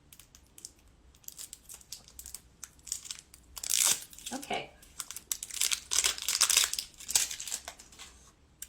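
Plastic and cardboard lipstick packaging being wrestled open, with scattered crinkles at first building into loud bursts of crumpling and tearing, close by, while a person speaks briefly.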